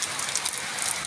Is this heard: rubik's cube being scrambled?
no